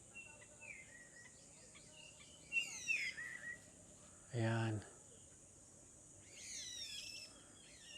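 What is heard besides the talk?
birds singing by Tikub Lake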